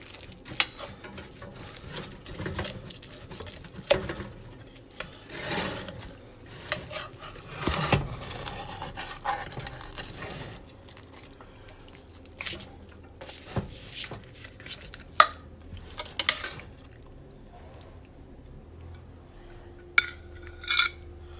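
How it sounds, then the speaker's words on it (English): A knife slices through a baked potato bake and a piece is lifted onto a plate, giving scattered clinks and scrapes of cutlery against the dish at close range, with no talking. "Okay, we'll try a slice of this. So I'll slice into it."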